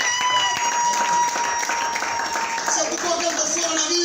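A church congregation claps and applauds God in a steady, dense wave of crowd clapping that fills the space, with tones and voices mixed in underneath.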